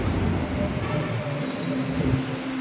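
A steady, dull rumble of an LRT light rail train fills V-Mapa station, with a faint high squeal partway through and no speech.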